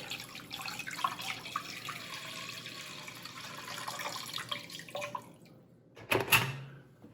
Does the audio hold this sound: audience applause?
no